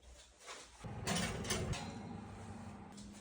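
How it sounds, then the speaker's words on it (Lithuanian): An oven mechanism clunks and slides as a baked Camembert topped with pistachios, cranberries and honey goes inside. A short rattle is followed by a steadier mechanical rumble that fades, close and fairly quiet. "O dabar dedame orkaitę."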